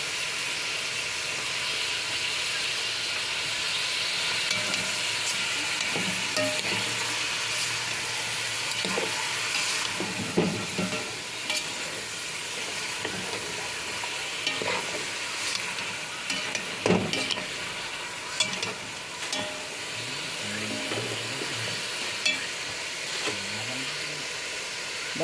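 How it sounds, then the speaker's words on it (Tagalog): Ginger sautés in a pan for Filipino arroz caldo, a steady close sizzle lasting throughout with occasional scraping and stirring clatter on top. "Damihan lang yung luya para masarap ang lasa, mga guys. Igisang maigi."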